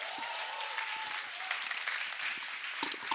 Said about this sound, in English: I think that genius deserved a bigger round of applause